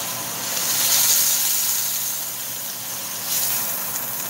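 Meat for Sauerbraten sears in a hot pan with a steady, bright sizzling hiss that swells and eases a couple of times, heard close with no talking.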